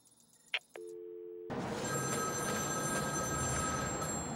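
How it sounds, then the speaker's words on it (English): A telephone rings in the Batman: Arkham City side mission Cold Call Killer. It opens with a faint ring and a tone, then a steady ringing continues over a loud, dense background of game ambience. "There's a phone ringing somewhere."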